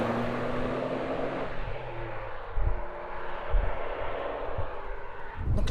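A modified Mitsubishi 3000GT V6 engine warms up, giving a low, steady hum with a few soft bumps in the rumble. It is heard alone and ends with a brief sharp noise.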